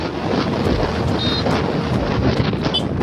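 A boat out on the water during a pleasure ride, steady loud rush of wind buffeting the microphone over a low churning drone and water wash, no voices.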